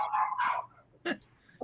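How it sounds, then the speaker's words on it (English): Dogs barking indoors behind a door, a few short muffled yelps and barks in quick bursts, fairly faint with a pause between them. "I had to shut the door. The dogs were barking."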